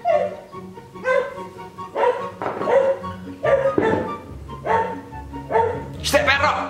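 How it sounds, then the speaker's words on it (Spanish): A dog barks repeatedly in loud, evenly spaced bursts, with a few yips and whimpers mixed in, close to the microphone against a quiet room. "¡Este perro!"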